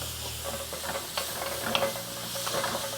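Boudin sausage and vegetables cooking down in a pan, giving a soft, steady hiss and sizzle with faint stirring scrapes, fairly quiet and close, with no voices.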